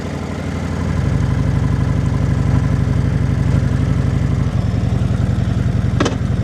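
A motorcycle engine with its valve-controlled exhaust opened idles with a deep, rapid, throaty exhaust pulse, steady and loud throughout, with a brief sharp burst of noise near the end.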